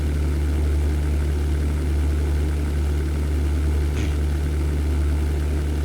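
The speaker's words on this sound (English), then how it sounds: "you are still flying on pretty high power on your damaged engine" A damaged fighter plane engine in a 1998 European Air War flight game drones steadily at high power, a loud low continuous hum with a brief faint chirp near the end, no talk over it.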